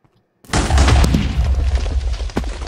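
A grenade goes off in a Titanfall-style Minecraft server game, a sudden loud boom after near silence that rolls into a long rumbling blast tail, with a second sharper thud near the end.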